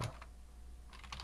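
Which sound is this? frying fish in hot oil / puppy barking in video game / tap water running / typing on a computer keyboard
typing on a computer keyboard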